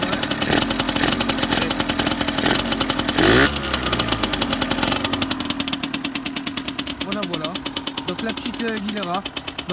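A Gilera RCR moped's small two-stroke engine idles close to the exhaust with a rapid, uneven putter, rising briefly in pitch partway through, with voices talking over it.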